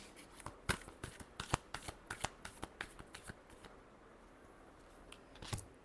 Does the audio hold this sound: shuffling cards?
yes